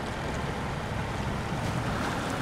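Heavy truck in SnowRunner ploughing through a water puddle with a damaged engine, giving a continuous loud rushing, sloshing wash of water and engine rumble with no pauses and no talk.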